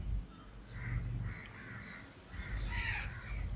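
Crows caw repeatedly at a middle distance, harsh calls spaced across the clip over steady outdoor background noise.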